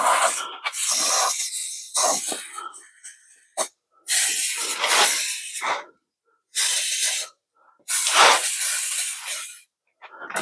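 Lubricant is sprayed from an aerosol can onto the gear shifter of a five-speed car in several loud, close bursts of hissing spray, each lasting about one to two seconds, separated by short silences.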